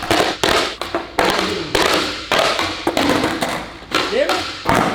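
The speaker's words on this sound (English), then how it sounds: "if I land a kickflip right now, you gotta unwrap one of the doors" Skateboard kickflip attempts on a hard surface, with sharp board snaps, clacks and thuds landing repeatedly at close range amid people talking and shouting.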